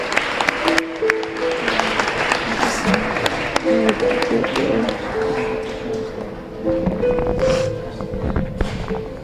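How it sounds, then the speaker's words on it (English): An audience at a talk on the stigma of substance abuse among women breaks into uneven, lively applause, with scattered loud claps and voices mixed in. "Another round of applause, please."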